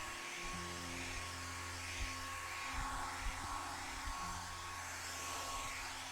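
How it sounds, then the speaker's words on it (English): Hair dryer blowing on a first layer of paint, a steady close whirring rush of air that holds constant throughout with faint low bumps underneath. "First layer always takes the longest to blow dry, so it might take a minute or two."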